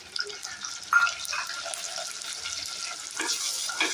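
Green chillies, curry leaves and about twenty shallots frying in oil in a village kitchen, a continuous close sizzle with light crackles and a few stirring scrapes, no voices.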